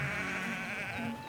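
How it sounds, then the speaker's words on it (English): Sheep bleating on a summer field in the Norwegian countryside, a steady chorus of overlapping calls from a large flock at moderate distance, with no talk. "the air was filled with the sound of sheep"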